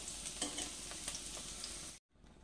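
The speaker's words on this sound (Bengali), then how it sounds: "ফোড়নে কাঁচা লঙ্কা দিয়ে দিচ্ছি, 5 ফোড়ন দিয়ে দিচ্ছি, হালকা একটু ভেজে নেব।" Green chillies and five-spice tempering frying in hot oil make a steady close sizzle with faint crackles and pops, then the sound cuts off abruptly near the end and a quieter hiss returns.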